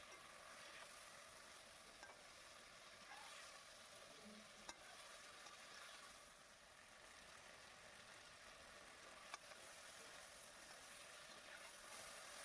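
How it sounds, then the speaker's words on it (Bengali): Spice paste for a vegetarian drumstick chorchori fries in a pan with a faint, steady low sizzle, broken by a few light taps of stirring, with no talking. "দেখতেই পাচ্ছেন মশলাটা ভাজা হয়ে গেছে"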